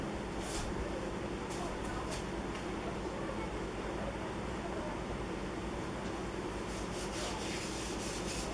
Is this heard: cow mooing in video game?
no